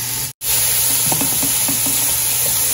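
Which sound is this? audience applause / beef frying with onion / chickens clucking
beef frying with onion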